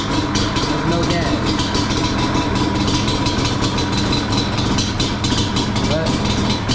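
A rebuilt Yamaha Banshee ATV idling, its two-stroke engine putting out a steady, loud, close rattling putter that holds an even rhythm throughout, with a voice talking over it.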